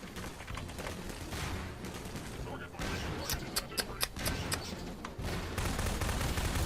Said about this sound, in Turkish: Pompalı pompayla sıkıyorum.